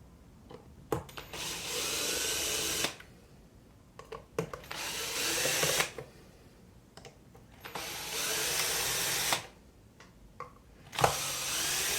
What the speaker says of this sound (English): So I'm just going to go around and loosen everything off.